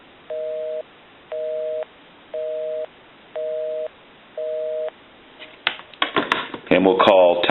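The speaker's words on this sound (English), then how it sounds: "We can call my number and it'll be busy." Busy signal heard through a Teleconcept clear transparent telephone handset: five evenly spaced, steady two-tone beeps on a line, followed by handling clicks and rustling noise as the call ends.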